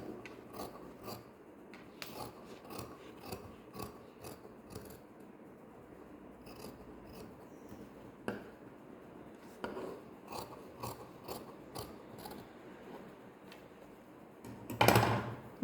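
Scissors cutting saree blouse fabric, heard as a quiet, close series of short rasping snips and fabric rubs in irregular rhythm, with a louder rustle at the end.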